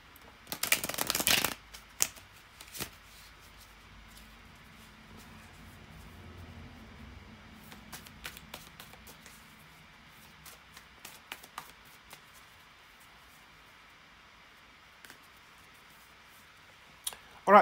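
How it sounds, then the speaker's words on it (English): Tarot cards shuffled close up, opening with a loud riffling burst, then soft sliding and scattered light clicks, ending in another short burst of card riffling. "to shuffle the tarot cards"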